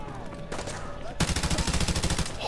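Rapid automatic gunfire in the Modern Warfare 2 campaign remaster, a loud burst of closely spaced shots that erupts after a quieter stretch of game ambience and single reports.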